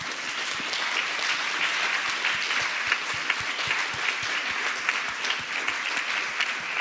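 An audience at a public debate applauds the organizers, with sustained, dense clapping. A few individual claps stand out sharply and rhythmically near the front, and a faint murmur of crowd sits underneath.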